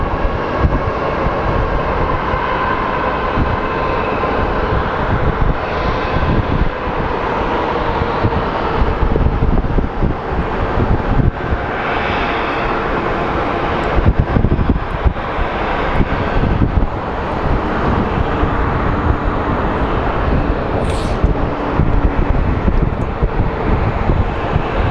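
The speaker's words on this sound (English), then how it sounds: "let's watch our last plane landing" An airplane landing at Phoenix Sky Harbor airport, a loud continuous engine roar mixed with wind buffeting on the microphone, holding steady throughout.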